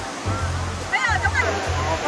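Kuang Si waterfall in Laos, a constant broadband rush of falling water filling the background while someone speaks over it nearby.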